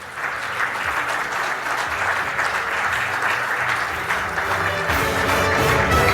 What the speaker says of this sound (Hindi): मैं चाहूँगा कि खड़े होकर तालियां बजाकर महावीर सिंह फोगाट का स्वागत कीजिए